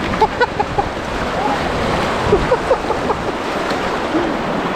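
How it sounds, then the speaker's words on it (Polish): A strong river current rushes between large rocks, a loud steady roar of churning water with a few faint higher splashes and whistles on top. "są właśnie takie dosyć mocne nurty jak tutaj"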